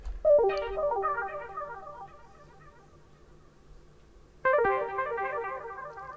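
Dry synth melody with no effects, a simple line of short bright tonal notes stepping up and down, fading into a quiet gap before another phrase starts, soft and close with no voices.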